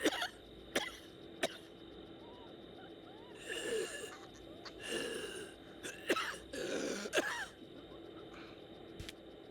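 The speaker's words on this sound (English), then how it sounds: "the frequent coughing always scares me, especially when I just cough for like a whole sim hour" A Sims character coughs in a video game, with sharp, isolated coughs followed by longer, raspy coughing fits over faint background sound.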